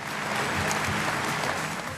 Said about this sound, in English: It won her a big round of applause